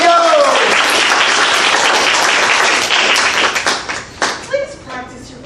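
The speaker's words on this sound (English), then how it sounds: "Let's give them a round of applause." An audience at a student showcase breaks into brisk clapping that holds for a few seconds and then thins to scattered claps, with voices heard at the start and end.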